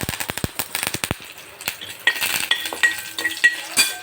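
Mustard seeds and curry leaves hit hot oil in a pan for a potato and broad bean stir-fry: sharp popping crackles and spoon scrapes at first, then a denser sizzle with intermittent clinks.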